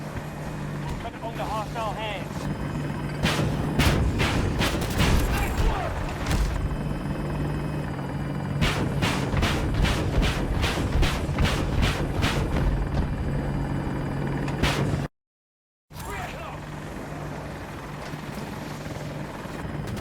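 Attack helicopter in Battlefield 2042, a loud steady rotor drone with rhythmic thumping blade pulses and engine whine throughout, with someone talking over it and a brief dropout near the end.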